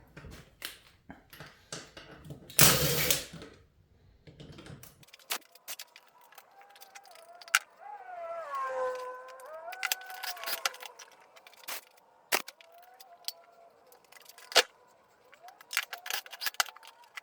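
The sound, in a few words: installing valve spring keepers on a Corvette LS6 cylinder head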